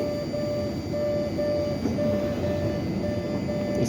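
A Boston Orange Line subway train rumbles steadily through a station, a dense continuous roar with a faint whine running over it, loud and close.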